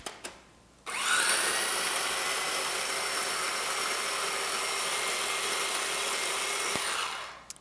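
A blender whirs steadily for about six seconds, blending a pistachio and parsley crust mixture for a grass-fed Easter lamb. The motor starts abruptly, runs loud and close with a constant high whine, then cuts off near the end.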